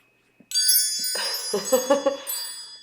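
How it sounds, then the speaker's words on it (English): A wind chime rings with bright, overlapping metallic tones after a brief quiet tap, its notes shimmering and decaying as a few more strikes follow close by. "Wind chime time is how I call in spirit."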